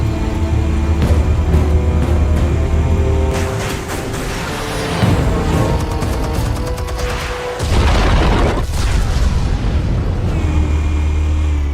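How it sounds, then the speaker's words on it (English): Heavy booming explosions detonate in the Batman Telltale video game, with a deep sustained rumble, several sharp blasts and debris crackle layered over a continuous low game soundtrack. "Explosives armed. Fire when ready."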